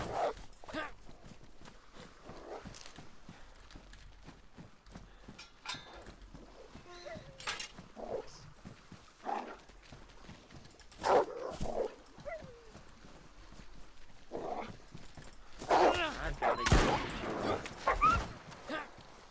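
Wild wolves in the video game DayZ growl, whimper and bark in scattered bursts, becoming louder and more agitated toward the end, mixed with footsteps.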